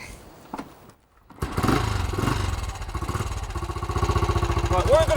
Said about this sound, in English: I'll have a go at firing the bike up